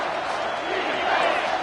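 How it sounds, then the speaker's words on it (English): A stadium crowd in the college football game NCAA 25 roars steadily behind the defense on third down, a dense continuous wash that swells slightly toward the end, with commentary voices over it. "Decibels rising as the crowd gets behind this defense on third down"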